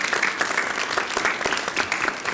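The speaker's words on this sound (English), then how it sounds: "Give them a round of applause." Applause from an audience honoring armed services veterans at a firefighter promotions and new hires ceremony, steady dense clapping filling the room throughout.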